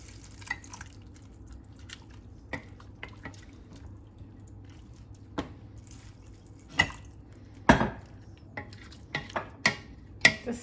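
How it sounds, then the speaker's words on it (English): Water goes into a pan of cooking chicken in a kitchen, heard as scattered drips, splashes and light clinks of a utensil against the pan, quiet and close, with sharper pours toward the end. "Next, we're going to add some water."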